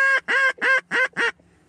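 Geese honking during a duck and goose hunt, five loud, close honks in a steady rhythm, then quiet.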